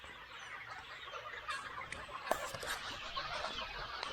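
Chickens clucking inside a chick coop, a dense, steady background of soft fowl calls and rustling at moderate distance, with no one talking.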